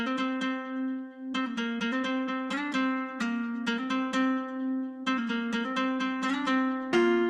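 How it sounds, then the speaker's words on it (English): A plucked electric guitar melody of quick, bright notes, played in short phrases with brief pauses between them, clear and up front. "I just threw in a little top line guitar melody that I recorded."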